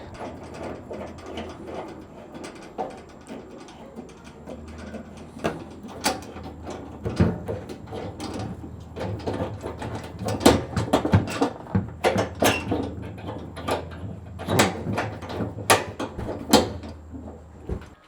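A gas regulator being screwed onto a Coleman Roadtrip 225 portable grill, heard as a close run of irregular metallic clicks, scrapes and ratcheting taps that grow busier partway through, with no talk.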